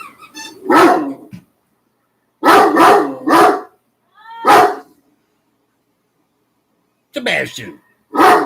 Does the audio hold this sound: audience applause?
no